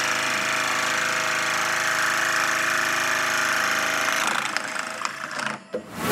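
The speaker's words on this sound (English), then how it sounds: "I'm gonna cut this 3/8 plug out" A powered plug cutter bores a 3/8-inch plug out of very hard eucalyptus wood, a loud, steady motor whine with a cutting buzz that winds down and stops near the end.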